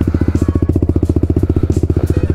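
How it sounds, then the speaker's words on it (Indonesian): An Italjet Dragster 200 scooter with a modified engine idling close by, giving a loud, steady, fast pulsing chug with no talk over it. "Kita nyalain. Nah kita dengar suaranya yuk."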